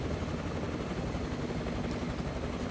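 Steady simulated helicopter flight in Microsoft Flight Simulator 2024 above the Papua New Guinea Highlands, an even, unbroken rotor hum and whine holding at constant loudness throughout.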